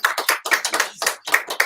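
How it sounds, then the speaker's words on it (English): A small group claps at an auction, a handful of sharp, separate hand claps in an uneven rhythm, close and fairly quiet, with brief gaps between bursts. "Big round of applause for Sarah!"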